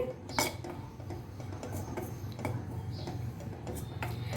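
A spoon stirs gram flour roasting in a kadai, with steady soft scraping and light metallic clinks repeating at a quick rhythm, close and fairly quiet.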